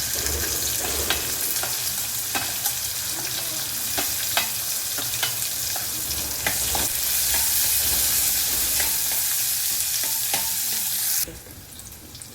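Onion and asafoetida sauté in a pan, a dense continuous sizzle with repeated stirring taps, dropping sharply quieter in the final second.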